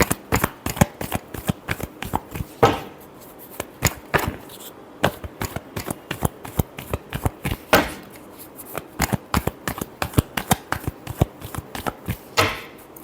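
A deck of tarot cards is shuffled at length, making rapid, close, crisp slaps and riffles in an uneven rhythm for about thirteen seconds, with no voices.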